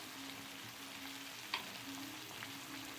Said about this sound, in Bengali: কষিয়ে নেবো এটা, টমেটোটা নরম হওয়ার পর্যন্ত